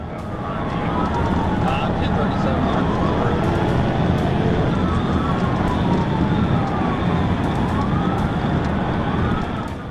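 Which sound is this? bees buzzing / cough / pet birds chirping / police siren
police siren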